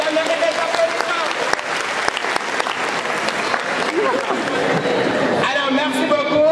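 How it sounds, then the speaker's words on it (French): Dense audience applause fills a training-event hall, steady and close throughout, with voices mixed into the crowd noise. "Ça mérite des applaudissements."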